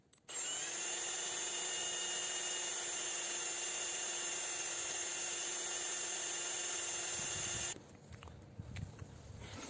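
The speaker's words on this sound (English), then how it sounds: "Start drilling here." A small drill bit boring into the electric motor of a Toyota Prius ABS pump, a steady high-pitched whine with strong tonal harmonics that runs for about seven seconds at close range, then stops abruptly, leaving quiet handling noise.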